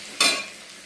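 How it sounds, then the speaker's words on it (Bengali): Vegetables hit hot oil seasoned with panch phoron, giving a sudden sharp hiss that flares up and then settles into a softer sizzle within a second. "এখন 5 ফোড়ন দিলাম, তারপরে তরকারিগুলো ছেড়ে দিলাম"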